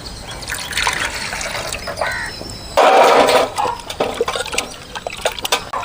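Tamarind soaking in hot water is stirred and squeezed by hand, giving wet sloshing and trickling with one louder splashy gush midway, close and alone.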